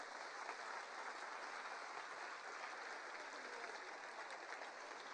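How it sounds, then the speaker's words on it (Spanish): A church congregation applauds steadily for several seconds, the clapping fairly faint and evenly sustained like a distant crowd. "Denle un aplauso al Señor por eso."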